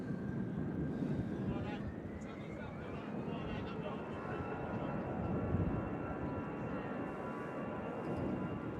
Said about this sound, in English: That aircraft you can hear departing is the EasyJet out to Munich. Started its takeoff roll.